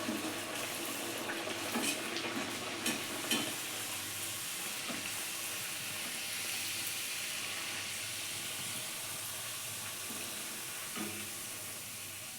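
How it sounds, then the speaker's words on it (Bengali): Radhaballabhi luchi deep frying in hot oil, a steady, fairly quiet bubbling sizzle that runs continuously with faint scraping and stirring clicks, no voices. "এভাবে আমি প্রত্যেকটা লুচি আমি ভেজে নিচ্ছি।"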